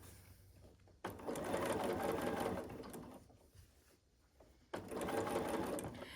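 A sewing machine appliqués shapes onto quilted placemats, running in two steady, fairly quiet bursts of rapid mechanical stitching separated by a short pause with faint handling sounds.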